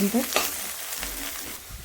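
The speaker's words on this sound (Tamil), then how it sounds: "இந்த வெண்டைக்காவை ஒரு 2-3 நிமிஷம் வதக்கலாம்." Okra sizzles in a heavy kadai as it is sautéed, a close frying hiss with stirring scrapes and a brief clink at the start.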